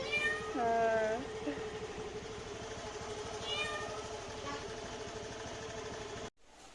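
A cat meows twice, a long cry and then a shorter one, over a constant low mechanical hum.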